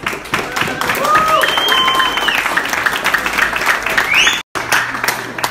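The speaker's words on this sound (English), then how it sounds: "So I want all of you to give yourself a round of applause." Campaign volunteers clap for themselves in a crowded room at an election-night gathering, a dense steady round of applause with cheering voices and whistles over it, cut by a brief gap near the end before the clapping resumes.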